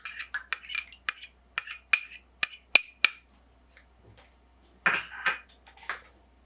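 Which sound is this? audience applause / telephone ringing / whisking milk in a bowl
whisking milk in a bowl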